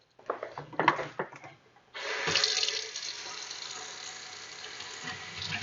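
A kitchen sink tap, opened after some light handling thumps, then runs steadily into the basin as a magic eraser is wetted with warm water.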